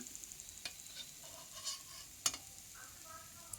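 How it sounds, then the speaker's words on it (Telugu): Wheat and maida biscuits fry in oil on a medium flame with a faint, soft sizzle and occasional light stirring clicks, quiet and close. "మీడియం ఫ్లేమ్లో పెట్టి వేయించుకోండి, మరి ఎక్కువ వంట పెట్టకండి"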